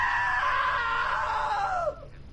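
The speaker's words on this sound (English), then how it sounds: "Now that was a great scream." A woman's long, loud scream from the video game What Remains of Edith Finch, sustained for about two seconds and then falling in pitch before cutting off abruptly.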